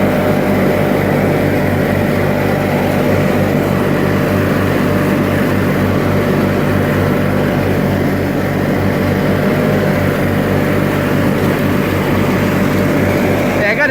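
A 1986 John Deere 318 lawn tractor with a 50-inch mowing deck drones steadily and loudly nearby as it mows, its engine hum constant and unbroken throughout.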